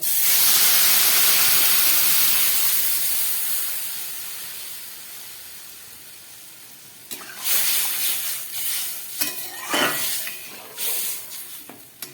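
Water is poured into a pan of frying koi fish curry, raising a loud steady hiss of steam that slowly fades, followed by softer bubbling and intermittent crackles, with no voices.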